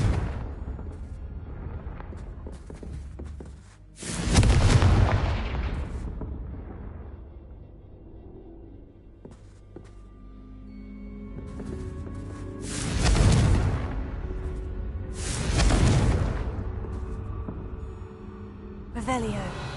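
Confringo blasting-spell explosions in the video game Hogwarts Legacy: three heavy, booming blasts with rumbling tails, the first around five seconds in and two more close together later, loud over a low background bed.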